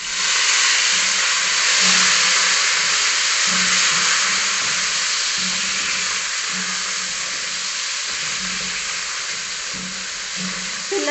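Beef sizzling steadily in a pan with golden fried onions and garlic for beef pilau, a loud continuous close hiss of frying with faint stirring knocks underneath.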